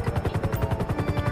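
A helicopter in the video game GTA V gives off a steady, fast rotor thump, about a dozen regular low-pitched chops per second, loud and close over a continuous engine whine, with no voices.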